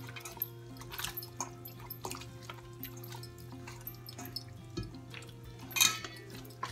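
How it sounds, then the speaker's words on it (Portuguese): Vinegar poured over raw oxtail in a kitchen, a soft trickling and dripping of liquid with faint clinks, beneath a steady low hum and a brief louder splash near the end. "agora eu tô colocando vinagre"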